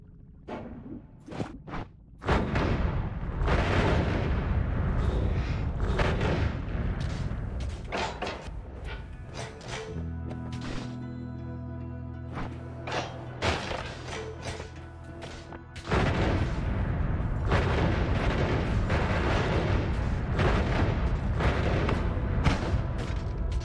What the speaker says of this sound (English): You're immune to explosions, Billy.